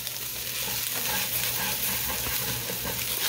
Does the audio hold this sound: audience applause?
no